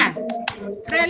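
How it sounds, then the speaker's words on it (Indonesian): An Indonesian classroom of children and their teacher perform the PPK clapping chant, with a few sharp hand claps mixed into voices. "kita mulai tepuk PPK"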